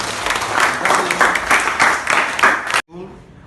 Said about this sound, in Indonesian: berikan tepuk tangan buat teman kalian